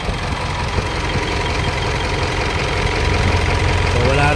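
A secondhand 2012 Mitsubishi Montero engine idling steadily, a continuous low rumble with a slight knocking texture that grows a little louder toward the end, with some talk faintly mixed in.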